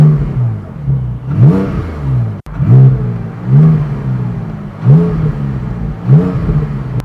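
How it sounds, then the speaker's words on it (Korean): Porsche Boxster GTS 4.0 flat-six with the optional variable exhaust switched on, revved repeatedly: about five sharp rising blips, each climbing in pitch before dropping back to a burbling idle, loud and close with no voices. "가변 배기도 옵션인데 어떤 사운드를 내는지 여러분들 한번 들어보시죠."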